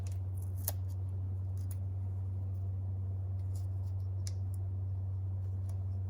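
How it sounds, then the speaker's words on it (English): Tape being torn or cut while masking around the heat sink of an LS ignition coil, heard as a few faint, scattered snips and crackles over a steady low electrical hum. "now I'm going to paint or tape off all around this heat sink here"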